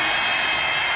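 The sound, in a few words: crowd in the Alamodome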